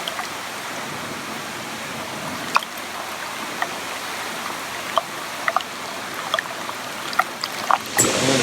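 Diesel exhaust fluid draining and bubbling out of a BMW X5 E70 diesel during maintenance, a steady watery gurgle and trickle with occasional sharp drips and clicks.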